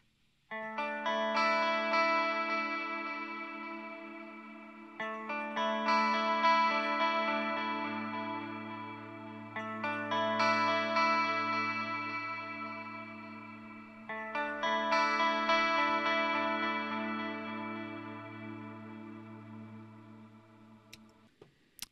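Clean electric guitar played through the JST Toneforge Misha Mansoor amp plugin, four ringing chord phrases each left to decay into a long reverb tail, with a low sustained bass note joining midway; no talking.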